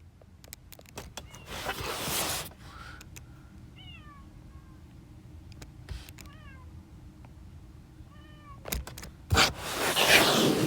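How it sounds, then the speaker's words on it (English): A domestic cat meows outside a basement window, several short plaintive meows in separate groups, heard faintly through the glass over a steady background hum with occasional louder noises. "Our cat is outside my basement window meowing right now."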